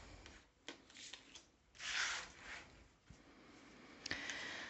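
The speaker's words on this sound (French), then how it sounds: "On va tirer 3 cartes." Tarot cards are drawn and handled close by in a quiet room, with soft, intermittent rustles and sliding scrapes, including one longer brushing swish in the middle.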